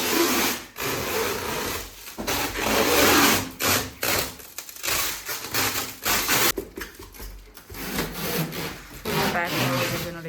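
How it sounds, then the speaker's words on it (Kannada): Waterproof paper is spread and wrapped over packed luggage with steady, close rustling, crinkling and scraping across about ten seconds, in uneven bursts with short pauses and no clear talking. "ಅದ್ರ ಮೇಲೆ ನಾವು ವಾಟರ್ ಪ್ರೂಫ್ ಪೇಪರ್ನ ಹಾಕ್ತಾಯಿದ್ದೀವಿ."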